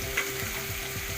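Tomato, onion and green chili frying in a pan while being stirred, a steady close sizzle with soft rhythmic scraping strokes throughout.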